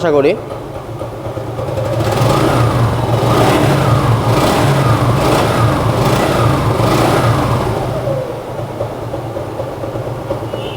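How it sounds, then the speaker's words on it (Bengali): A Suzuki Gixxer Double Disc motorcycle engine runs nearby, rising into a steady loud revving drone that holds for several seconds before easing back to idle, with a voice talking over it. "বাইকটা কিন্তু স্টার্ট করা হয়েছে আর আপনারা সাউন্ডটা শুনতে পাচ্ছেন"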